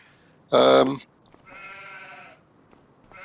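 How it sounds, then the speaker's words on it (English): Sheep on a farm bleating close by: one loud, sharp bleat followed by a longer, quieter bleat, with a little low background noise and brief silence between them. "As you can see in here, we've got the sheep."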